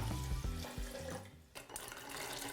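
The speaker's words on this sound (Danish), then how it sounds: "det gør jeg ved at tage 1 liter vand ned i min beholder, 1 liter koldt vand" Cold water, about a liter, runs steadily from a tap into a container for making walnut milk in a ChufaMix, a continuous close splashing stream with a brief dip partway through.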